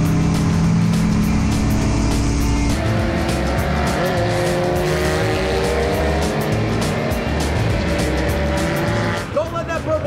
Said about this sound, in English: Don't let that purple car go around you.